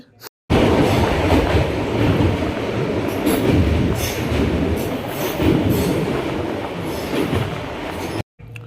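Continuous loud rumble and rattle inside a moving passenger train carriage in India, bound for Gorakhpur, with rhythmic clacking of wheels over the tracks.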